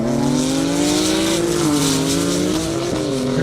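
A race car roars past at high speed on a half-mile airstrip, its engine note loud and sustained, pitch dipping and wavering with brief upward jumps as gears change.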